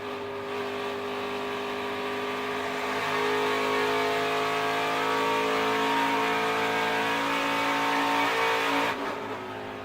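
NASCAR Camping World Truck Series race trucks roar around Pocono Raceway in a loud, continuous engine drone that swells as the pack passes, with sustained high-revving tones and no talking.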